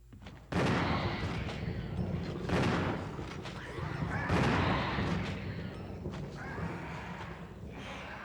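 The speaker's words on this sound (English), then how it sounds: "start shooting" Several loud, heavily reverberant gunshots in the Resident Evil video game, spaced a couple of seconds apart, each a broad crashing burst that rings out over a noisy background.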